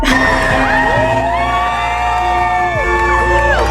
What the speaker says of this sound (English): Screamed our lungs out when my cousin's name was called.